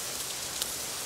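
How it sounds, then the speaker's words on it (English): Rain falls in a steady, even hiss of patter across a surface, with one slightly sharper drop standing out briefly, consistent throughout and without voices. "the rain"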